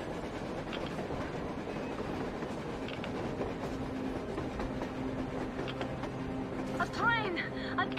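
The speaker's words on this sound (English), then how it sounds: "A train! A damn train on the surface!" A train running on the surface through a blizzard in the video game Metro Exodus, a faint, continuous rumble with rhythmic clatter beneath talking voices.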